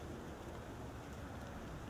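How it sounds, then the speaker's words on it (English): Steady rain falling outdoors, a dense continuous hiss of drops with a faint low rumble underneath, no voices. "and it was starting to rain"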